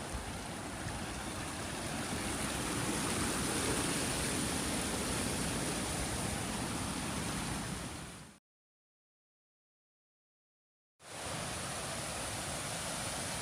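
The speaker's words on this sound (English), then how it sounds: "That's that same little brook. It just got more powerful as it went along." A small brook beside a hiking trail rushes steadily nearby with a broad, continuous watery hiss, cut by about two seconds of total silence before the flow resumes.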